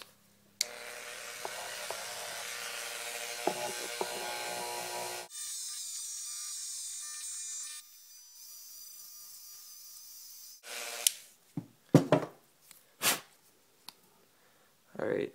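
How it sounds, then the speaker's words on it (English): A Dremel rotary tool whines steadily as it sands the plastic corner pieces of a Zhanchi speed cube, a high buzzing tone that shifts as pressure changes, followed by short scraping and handling noises near the end. "I'm going to be using a Dremel"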